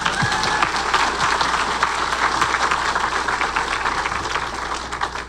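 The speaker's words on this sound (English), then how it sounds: "yeah, you can clap for that." Town hall audience applauding at a Bernie Sanders 2020 health care event in Dover, New Hampshire: steady, dense clapping from a crowd, fairly loud and sustained throughout, with no clear speech over it.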